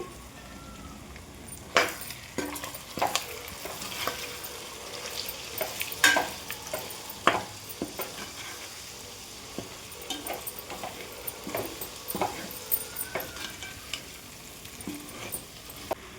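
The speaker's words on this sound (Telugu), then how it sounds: "ఇప్పుడు కూర ఒకసారి కలుపుకోవాలండి." Country chicken curry with garam masala sizzles in a pan while a spoon stirs it, with irregular scraping clacks and soft frying crackle at moderate volume.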